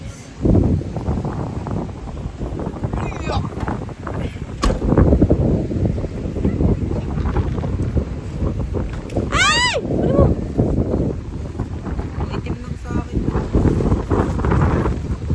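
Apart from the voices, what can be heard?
strong wind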